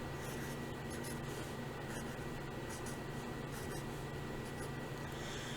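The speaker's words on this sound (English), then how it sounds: "I'd trace over again my Sharpie lines." A Sharpie marker traces over pencil lines on paper, making continuous close scratchy rubbing strokes with faint squeaks, steady throughout and with no talking.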